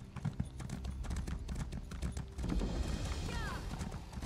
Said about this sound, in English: Tentacle horse.